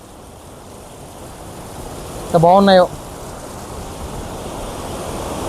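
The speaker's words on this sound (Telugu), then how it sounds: "చూడండి ఎంత ఫోర్స్గా వస్తున్నాయో వాటర్ చాలా ఎక్కువ హెవీగా అయితే ఫ్లో అవుతున్నాయి" A small waterfall rushes with heavy force, a steady broadband roar that stays close and loud throughout, with a brief spoken phrase in the middle.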